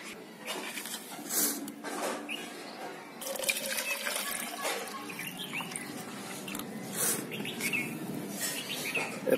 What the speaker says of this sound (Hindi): और इस डिब्बे को पानी से भर देते हैं।